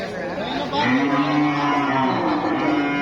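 A cow gives one long, fairly close moo lasting a couple of seconds, with faint chatter and voices in the background.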